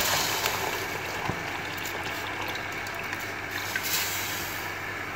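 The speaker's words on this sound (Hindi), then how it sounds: "अब यहाँ पर मैं ऐड करूँगी ठंडा पानी, तकरीबन 2 कप है" About two cups of cold water poured into a pot of Kashmiri pink tea, a continuous soft splashing and gurgling pour heard alone at moderate level.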